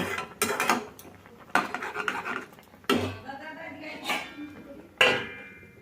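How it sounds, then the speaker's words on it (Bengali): Potol curry in milk with fennel stirred in a pan, with several distinct metallic clatters and scrapes of utensil and lid spaced a second or so apart, close and fairly loud. "একটুখানি নাড়াচাড়া করে আবারও ঢাকা দিয়ে দেব"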